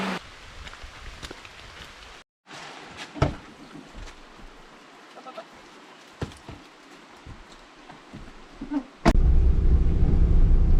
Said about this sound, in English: About halfway and we got caught in the rain.